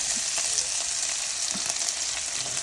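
Two dried red chillies frying in oil over a low flame give a steady, dense sizzle that stays even and close throughout, with faint stirring touches underneath.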